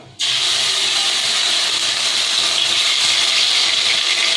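Water poured into a hot pan of ginger paste, cooking for a Bengali chal potol (pointed gourd) dish, sets off a sudden loud, steady sizzling hiss that starts abruptly and keeps going without a break.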